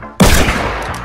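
Video game gunfire, a single loud close shot bursting out after brief quiet and ringing into a decaying rumble, with a faint later crack.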